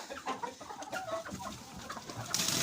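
Hens cluck softly and repeatedly in straw-lined nests in a coop, close and fairly quiet, with a brief rustle of straw at the end.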